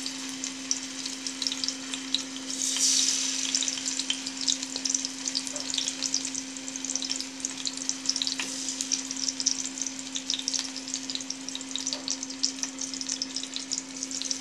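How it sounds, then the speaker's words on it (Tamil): Slices of elephant foot yam frying in oil, a steady bright sizzle crackling evenly close by with a faint tonal hum underneath and no speech. "ரெண்டு பக்கமும் நல்லா ஃப்ரை ஆகணும்."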